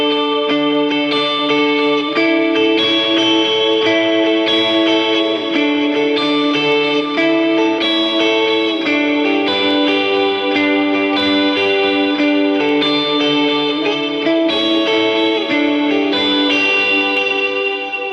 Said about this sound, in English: The dotted eighth note delay is important here. It kind of gallops when you play it.